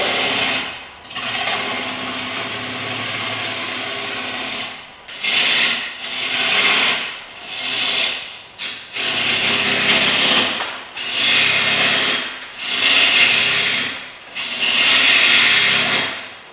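A woodturning gouge cuts into a wooden bowl spinning on a lathe, giving a loud, close rasping and shaving sound in repeated passes of a second or two, each broken by short pauses.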